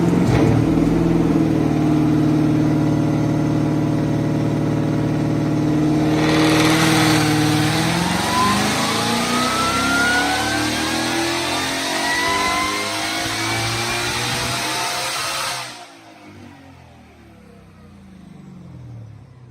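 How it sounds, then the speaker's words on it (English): A Mustang GT500 engine on a dyno revs hard and climbs in pitch for several seconds, loud and close, then cuts off abruptly and winds down into quieter mechanical whirring. "So this is just a baseline dyno."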